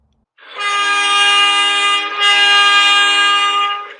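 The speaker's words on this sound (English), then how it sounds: "We are rollin' on the underground mining railway in Kimberley" Underground at Kimberley's Sullivan lead-zinc-silver mine, the mine railway train sounds a loud, close horn: a sustained tone that dips briefly near the middle, then carries on and fades out.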